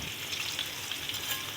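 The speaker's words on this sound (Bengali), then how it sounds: "এটা পেঁয়াজ ভাজা হচ্ছে" Onions frying in a pan in a home kitchen, a steady, even sizzle with light crackling heard alone at low volume.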